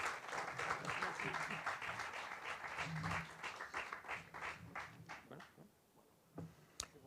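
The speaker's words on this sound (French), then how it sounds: "Merci beaucoup et un applaudissement spécial pour Wana" Applause from an audience at a drawn-reading literary event, a dense patter of clapping that thins and fades after about five seconds, leaving a few scattered claps and faint voices.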